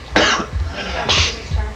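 A person coughs in a few harsh, close bursts, roughly twice within two seconds, with throat rasp between them.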